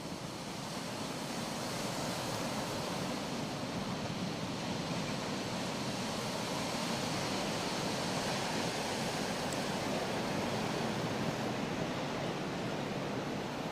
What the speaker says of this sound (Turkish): Yine Karadeniz dalgalı